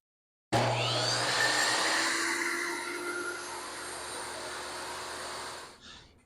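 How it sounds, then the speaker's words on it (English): A table saw rips thin wood strips, starting abruptly with a loud whining roar that holds steady under load, easing slightly midway, then cutting off and spinning down near the end. "then I'm going to rip some strips on the table saw"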